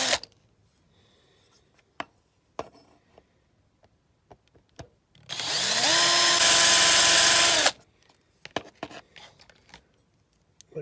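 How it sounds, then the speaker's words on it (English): An electric drill bores rivet holes in a die-cast Corgi 309 Aston Martin DB4 body, a single loud whining burst of about two and a half seconds amid small handling clicks and taps. "Just drilling the holes for the rivets into the Aston."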